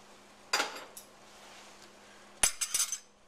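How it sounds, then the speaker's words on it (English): Metal egg poaching form lifted off a pan in a kitchen, a bright clink followed a couple of seconds later by several quick metallic rattles and taps, fairly quiet. "I'm going to take the form off first"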